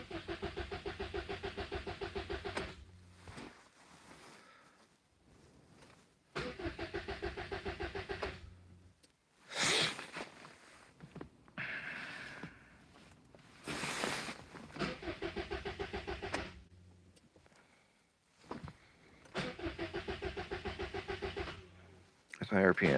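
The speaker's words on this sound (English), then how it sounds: "Can't say I've ever run negative 12 degrees to start the engine before." Car engine cranking and starting at minus 12 degrees, repeated bursts of loud, rough starter cranking separated by pauses, with people talking in between the attempts.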